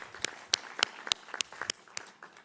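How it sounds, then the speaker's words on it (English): Audience applause fills a livestreamed sports panel discussion, a run of sharp individual claps standing out over a softer spread of clapping, moderately close and steady for a couple of seconds. "big round of applause."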